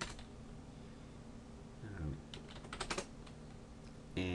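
Keys tapped on a computer keyboard while a command is entered to reset a Cisco ASA 5505 firewall to factory defaults, a quiet uneven burst of clicks near the middle and a sharper keystroke at the end.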